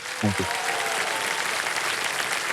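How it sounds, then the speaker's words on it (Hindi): Studio audience applause on the Kaun Banega Crorepati season 17 game show set, a dense, steady wash of clapping lasting a few seconds, with a brief voice sounding at the very start. "ताली बज जाए उनके लिए।"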